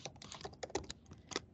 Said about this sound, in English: So all you need to do is double click and start typing.